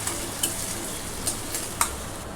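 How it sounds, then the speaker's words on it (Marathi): Onion sautés in a pan with a constant soft sizzle, punctuated by a few brief clicks and scrapes of a stirring spoon against the metal, close and even, with no talking. "बघू शकता आता इथे मी कांदा जास्त लालसर नाही, पण मग छान मऊ होईपर्यंत परतून घेतला."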